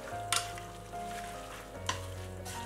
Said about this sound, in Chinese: 把面和菜充分的搅拌在一起